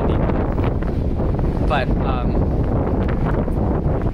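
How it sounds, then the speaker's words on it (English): Wind gusting into a microphone outdoors, a constant low rumble and buffeting that fills the whole stretch, with a brief spoken word and faint voice tones surfacing partway through. "Oh, it's windy."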